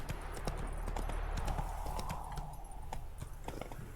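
Horse hooves clip-clop steadily in The Witcher video game, a continuous rhythmic trot at moderate level over a low ambient game hum.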